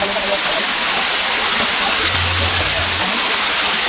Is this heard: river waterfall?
yes